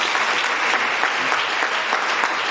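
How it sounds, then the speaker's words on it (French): An audience at a conference on Houphouët-Boigny bursts into sustained, dense applause for a presenter, loud and even from start to finish. "Applaudissez M. Egnyankou."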